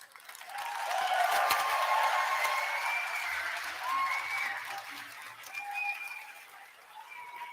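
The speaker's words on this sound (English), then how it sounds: "Let's give him a round of applause." An audience at a community health fair breaks into applause, a sustained wash of clapping that swells, holds and tapers, with faint voices mixed in.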